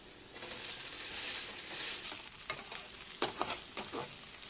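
Potato crust mini pizza patties frying in a pan, a steady hiss of sizzling oil with scattered crackles and a few scraping taps as the patties are flipped, no talking.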